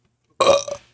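A single deliberate burp, one short loud belch forced on purpose, close up and alone in near silence.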